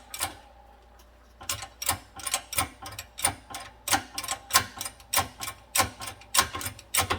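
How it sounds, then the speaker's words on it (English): A shop press works a wheel bearing flange off a 2015 Ford Focus hub, giving a steady series of sharp mechanical clicks and ratcheting ticks, close and fairly regular, after a quiet opening second. "here's the setup in the press to press the flange off"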